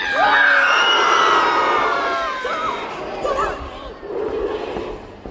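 Children and adults at a shopping centre dinosaur show roar together in imitation of an enormous dinosaur: a loud, sustained group shout that breaks into scattered shrieks and chatter.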